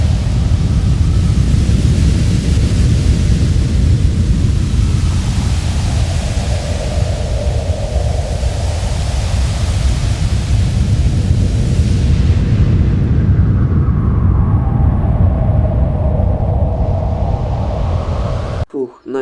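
Sandstorm near a factory with dirty, foul-smelling air: a loud, dense roaring rush of wind-blown noise that swells and dips steadily for the whole stretch before cutting off, with a voice speaking over it.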